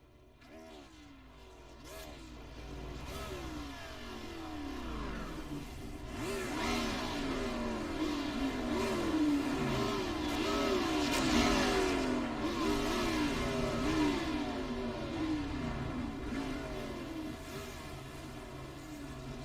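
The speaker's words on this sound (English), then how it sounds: "All right, drivers, going to start your engines." Race car engines in the iRacing stock car game at Dover International Speedway start and rev together as a dense, continuous roar, with rising and falling engine tones and a voice talking over them.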